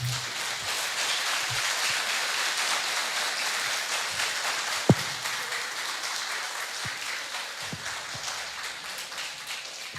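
A room of people gives sustained applause, a steady broadband patter of many hands clapping at moderate level, with a few low thumps and one sharp knock partway through.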